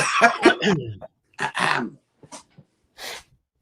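Several harsh coughs and throat-clearing bursts sound close to the microphone. They come in short, irregular fits separated by brief silences, with no speech between them.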